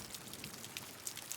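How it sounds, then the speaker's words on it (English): Steady rain falls and patters on a surface, a soft continuous hiss with scattered faint drops, quiet and even throughout with no voices. "As you listen to the rain,"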